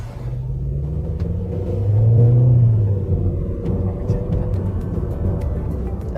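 A Volkswagen Passat B5 engine and exhaust give a deep, steady rumble from inside the moving car, swelling briefly as it accelerates, with someone talking over it.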